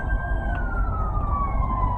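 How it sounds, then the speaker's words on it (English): An ambulance siren passes on a street, a loud sustained wail whose tone slowly drops as it goes by, over low traffic rumble. "Let me see where this ambulance is coming from."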